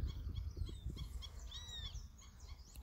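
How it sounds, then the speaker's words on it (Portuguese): Waterbirds and ducks call at a reservoir filling with water, a mix of honking and chattering bird calls at moderate distance over steady low background rumble. "Ali na frente um bocado de pássaro d'água, tudo alegre, com o açude recebendo bastante água aí na frente"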